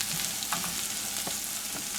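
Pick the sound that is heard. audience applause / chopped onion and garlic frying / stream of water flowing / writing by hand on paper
chopped onion and garlic frying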